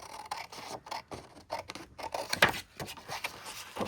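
Scissors snip steadily through a vintage paper cutout of a lady for a junk journal collage, making close, dry rustling cuts in an irregular rhythm with no talking.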